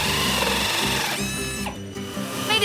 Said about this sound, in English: Can you hear the sound of the drill making the plug hole?